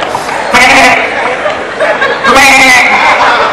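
A person mimics a goat's bleat in two wavering, nasal bursts, close to the listener and fairly loud, with a bit of chuckling around them.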